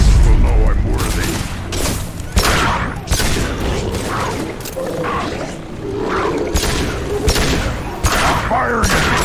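Sci-fi gunfire in Space Man Legends crackles in repeated loud bursts over a rumbling, roaring game soundscape, and a voice talks along the way.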